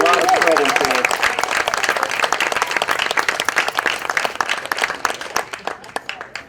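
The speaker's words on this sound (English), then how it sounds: "please give Eileen a round of applause" Audience applause at an outdoor campsite concert, a dense burst of many hands clapping close by that starts strong and gradually thins out, with a voice briefly audible at the start.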